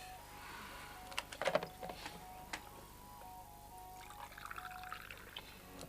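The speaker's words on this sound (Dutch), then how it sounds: "mag ik je dan nog wel even koffie inschenken?" Coffee poured from a pot into a cup indoors, a short liquid splash and trickle near the middle, faint and close against a quiet room.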